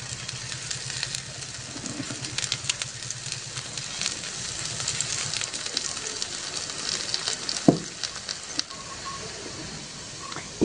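Oil sizzles softly on a hot griddle where a village-style onion bhakri flatbread is roasting, a steady low hiss with faint crackles and occasional small pops.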